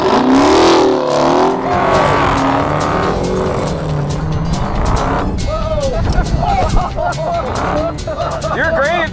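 A Dodge Charger muscle car revs and races off-road, its engine rising and falling loudly with tire squeal and skidding, while a voice talks over it.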